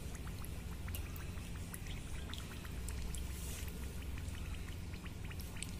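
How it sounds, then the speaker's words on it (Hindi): Steady stream of water pouring and trickling into soil in a plant pot, a continuous close splashing with small droplet taps throughout. "मैं पानी डालकर दिखाती हूँ"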